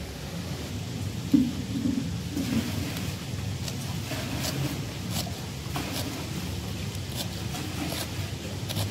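Steady light rain patters outdoors in Peshawar with a low rumble of distant thunder underneath, continuous and fairly soft throughout.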